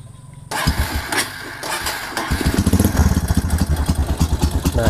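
Honda Megapro motorcycle engine starting and idling roughly close up, with an uneven loud chugging rhythm and a metallic rattle from the cylinder head that grows steadier after a few seconds, no talk.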